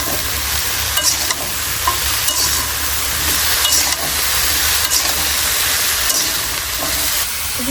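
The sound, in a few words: stirring cauliflower and potato frying in a pan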